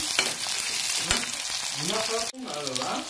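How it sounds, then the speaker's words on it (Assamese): Onions sizzle in hot oil left over from frying pakoras while being stirred for a raw banana curry. The frying hiss is steady and close, with scraping stir sounds and a brief break near the end. "পকৰি ভাজা তেলখিনিতে মই পিঁয়াজখিনি দি দিছোঁ"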